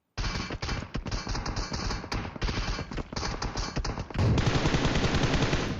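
Gunfire rattles in a battle royale shooter, loud rapid back-to-back automatic bursts with short gaps, then a denser, sustained volley near the end.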